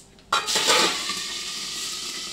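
Green chillies and curry leaves, with cumin and asafoetida, dropped into hot oil for matar poha burst into a sudden loud sizzle that settles into a steady close crackling hiss, with no talking.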